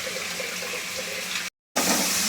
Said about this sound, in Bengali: মাংসটা আমি একটু ভালো করে ধুয়ে নিই।